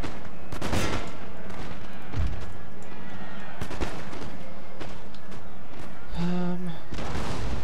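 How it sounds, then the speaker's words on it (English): Howitzer artillery fire in Napoleon Total War multiplayer, with dense rolling booms and crackling volleys throughout, several sharp close blasts standing out, and someone talking over the battle. "Is that just the howitzer fire or something going on?"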